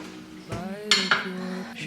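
Dark-coloured cutlery rattles and clinks in a kitchen drawer, a few sharp metallic jangles close by with a faint voice in the background.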